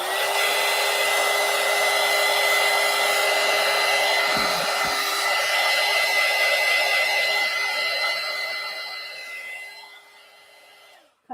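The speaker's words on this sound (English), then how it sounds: "And I do have my heat tool plugged in" A plugged-in craft heat tool blows hot air steadily over paint on a mixed media poster book page, a loud, continuous whirring hum with a faint tonal whine that winds down near the end.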